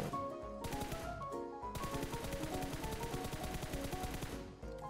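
Rapid automatic gunfire from a mobile shooter game's aim training with a red dot sight rattles in dense, fast bursts, pausing briefly between strings of shots, with no voices over it.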